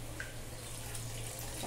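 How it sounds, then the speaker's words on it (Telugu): Tamarind water pours into a drumstick egg curry in a continuous, soft liquid splash that lasts a brief moment. "ఇప్పుడైతే మనం చింతపండు పులుసు అయితే పోసుకుందాం."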